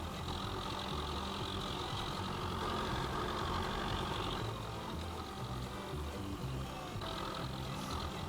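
A John Deere tractor engine in the video game Farming Simulator 2015 drones at a steady, low idle for about eight seconds, constant and moderately quiet with no talking.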